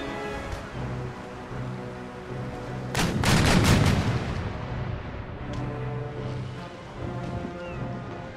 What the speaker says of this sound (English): I'd like to try and get some chain shot hits into her full masts.